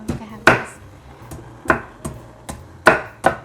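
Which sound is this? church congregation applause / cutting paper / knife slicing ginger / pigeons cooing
knife slicing ginger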